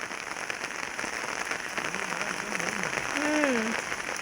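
Rain falls steadily onto surfaces outdoors, a dense, even patter that swells slightly toward the end, while a voice briefly rises faintly in the background.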